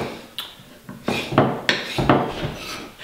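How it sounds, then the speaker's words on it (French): A knife slices pancetta into thin strips on a board: about five sharp, close cutting strokes in a steady rhythm, each with a brief scraping tail, and no voices. "Tu commences déjà par couper ta pancetta"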